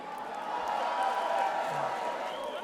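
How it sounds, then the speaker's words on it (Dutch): A carnival finale show crowd applauds two women, a soft, distant wash of clapping and cheering that swells slightly midway and stays fairly faint. "Mag ik een heel groot applaus voor deze twee dames."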